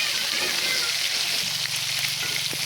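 A local fish curry with dhekia fern greens and potatoes is stirred as it fries in a pan, giving a steady, close sizzling hiss with a soft low hum underneath and no clear voices.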